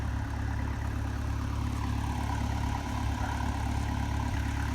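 A tractor engine idles steadily on a farm hayfield, a low continuous rumble with a constant mechanical whir running throughout, fairly close and alone with no talking.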